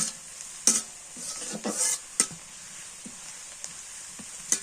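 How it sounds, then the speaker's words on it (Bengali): Raw turmeric fries in oil in a village kitchen, with a faint steady sizzle broken by several sharp, close scrapes and clinks of stirring. "কাঁচা হলুদ এই যে তেলের মধ্যে ভাজা হইতেছে সুন্দর"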